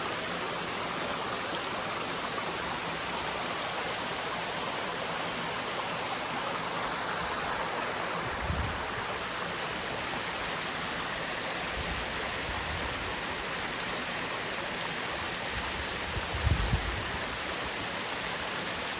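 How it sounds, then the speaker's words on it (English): Water from a man-made waterfall rushing through a rock gorge below a dam makes a steady, even roar that stays constant throughout, with a few faint low thumps and no talking. "So maybe a man-made natural waterfall"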